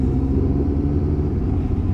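A McLaren supercar rumbles past nearby during a ride-out at Alderley Edge, a deep, steady, loud engine drone with no voices over it.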